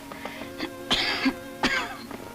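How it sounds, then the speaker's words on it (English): Two short, rough coughs or throat-clearings, close and fairly quiet, separated by a brief pause, over faint background hum. "And this cough."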